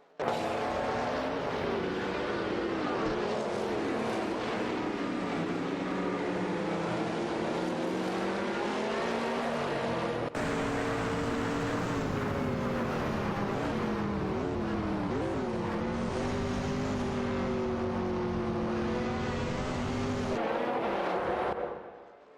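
Race cars, including a Lamborghini Diablo and an Oldsmobile Cutlass, roar continuously in a computer racing game, engines droning and shifting pitch as they accelerate and ease off, loud and unbroken throughout.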